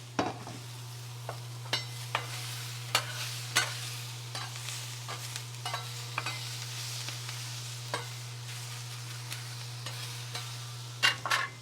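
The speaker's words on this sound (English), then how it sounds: "This is the sound you want to hear. Listen closely." Steady sizzling of a wagyu steak frying in a hot pan, with occasional sharp pops and crackles, close by and continuous with no talking.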